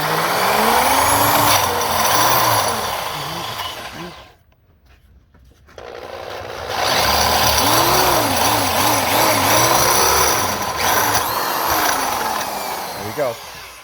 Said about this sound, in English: So that's drilling the hole.